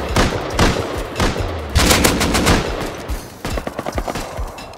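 L9 rifle gunfire in the video game Rust, loud and close, rattling out in quick bursts of rapid shots separated by short pauses, with no talk.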